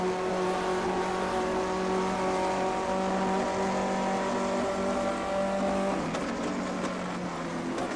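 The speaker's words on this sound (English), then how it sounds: "Downshifting for the Parabolica" A 1958 Formula One race car drops through its gears braking for the Parabolica at Monza, a steady tonal engine drone that shifts pitch near the end, loud and close throughout.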